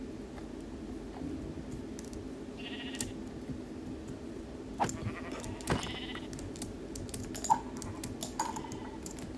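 Sheep bleat in Minecraft, short faint calls spread across a quiet stretch mixed with light keyboard clicking and small scattered taps.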